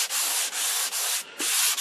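Sandpaper rubs across the wood finish of an RCA Radiola 60 radio cabinet in close, rhythmic back-and-forth strokes, each a loud scratchy swish with brief pauses between passes.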